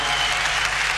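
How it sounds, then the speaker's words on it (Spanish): A big concert crowd at Luna Park applauds the singer, a thick unbroken wash of clapping that fills the hall at full, steady loudness. "Quiero pedir un aplauso, un aplauso grande para esta estrella"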